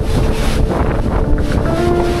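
Strong mountain wind buffets a tent at a campsite, making a loud, constant, rumbling roar with gusty swells throughout and no talking.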